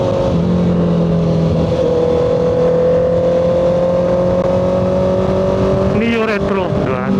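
A Honda CBR650R motorcycle being ridden, a steady loud engine drone with wind rush heard from the rider's position, holding one pitch throughout while a person talks.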